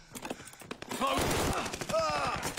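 Submachine gun fire in a video game, a dense rattle of rapid shots from close range with a few louder impacts mixed in.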